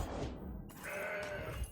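Goat card in the Legends of Runeterra video game bleats once, a short, nasal game sound effect heard alone.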